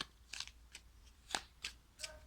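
Suspect cards from the Mr Jack board game being shuffled, giving five short papery riffles spaced irregularly, fairly close and moderately loud, with no talk.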